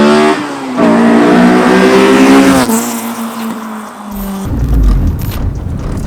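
A Honda Civic Type R with a VTEC engine revs hard as it approaches, its rising engine note peaking loud and close before it passes, then dropping away into tire and road noise.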